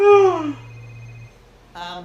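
A cartoon telephone gives a short electronic ring that slides downward, then after a pause a second brief ring starts, with no speech over it.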